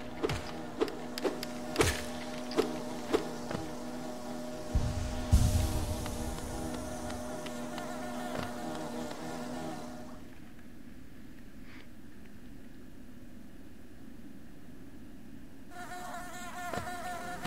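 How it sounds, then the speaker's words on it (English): Swarming bees buzz in a hive in the video game Hollow Knight, a dense droning hum with scattered sharp clicks and game effects, fading to quieter ambience partway through. "Oh God, not the bees!"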